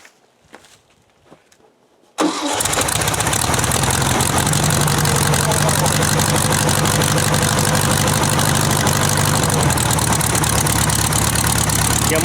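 An old buggy's engine starts after a short quiet stretch and idles steadily and loudly close by, a dense knocking clatter that keeps an even rhythm and drops slightly near the end; plugs have just been cleaned and the points set.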